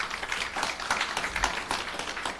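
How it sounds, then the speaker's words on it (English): An audience at a civil service public forum applauds: a faint, fairly distant patter of many hands clapping, steady and unbroken with loose individual claps showing through. "So a round of applause for that."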